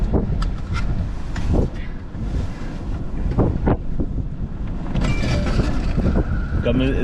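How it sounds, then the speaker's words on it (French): Strong blizzard wind buffets the microphone beside an autoroute 30 exit in Varennes on Montreal's south shore in December, a loud continuous rumble with gusts throughout, and a person talks over it. "Un peu trop de vent."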